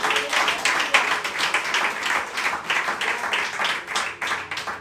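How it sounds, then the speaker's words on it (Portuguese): A church congregation claps together in sustained, dense applause, a steady wash of many hands close by with no clear break across the whole stretch. "Aplauda o Senhor com o seu melhor"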